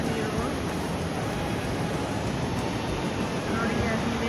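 Sea waves wash up on Udupi Delta beach in a steady, close roar of surf that runs unbroken from start to end.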